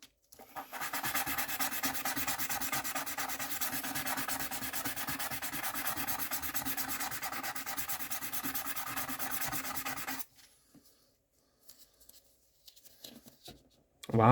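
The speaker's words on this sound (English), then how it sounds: "this is 600 grit." Quarry stone is hand-sanded with 600 grit sandpaper in fast, rhythmic back-and-forth rasping strokes, close and continuous for about ten seconds, then it stops abruptly and only faint small sounds follow.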